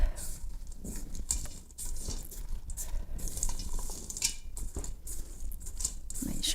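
Chocolate chips and pecans being folded into thick blondie dough in a bowl, giving a steady, close scraping and stirring with soft clicks of spoon against bowl throughout.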